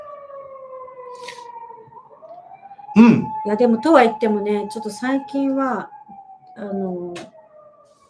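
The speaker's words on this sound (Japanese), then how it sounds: "なんかすごい今、救急車かな？ すごい鳴ってる。" An ambulance siren wails, rising and falling in the distance, sweeping steadily, while a person talks close by over it.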